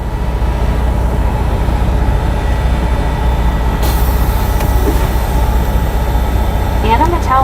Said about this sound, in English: I've been hearing the trains running.